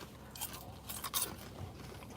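A crunchy Kool-Aid treat is chewed up close in a few quiet, scattered crisp crunches over a soft background hiss, with no one speaking.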